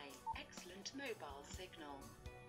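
A Motorola TLK 100i internet-based push-to-talk radio speaks its battery level in a synthetic voice prompt, close and quiet, with a couple of short electronic tones mixed in.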